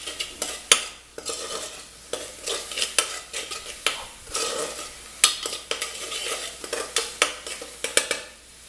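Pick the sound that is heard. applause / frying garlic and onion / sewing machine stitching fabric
frying garlic and onion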